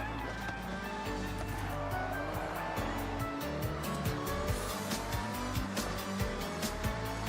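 A car in a video game drives over rough roads that don't suit it. The engine roars steadily and the tires squeal and skid, with repeated bumps and clatter.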